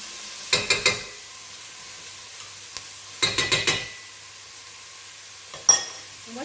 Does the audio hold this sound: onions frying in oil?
yes